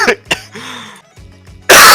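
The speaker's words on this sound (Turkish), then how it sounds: "Çok öksürme ya." A person coughs sharply twice, then clears the throat with a rough rasp, ending in a loud, harsh burst of coughing, all close to the microphone.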